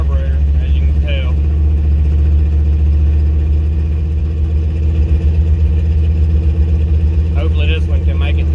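Car engine idling roughly and in need of a good carburetor, a loud, continuous low rumble with a slightly uneven pulse, heard close with people talking briefly at the start and end.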